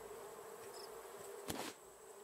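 Bees buzz in the survival game Raft, a steady faint drone with a steady hum, broken by a brief louder burst midway.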